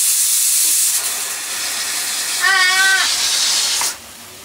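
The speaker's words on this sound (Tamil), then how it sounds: "அந்த சிக்கன் குழம்பு கொதிக்குது பாரு" Steady bubbling hiss of a pot of chicken curry boiling on the stove, with a brief squeaky whine partway through, then the sound cuts off.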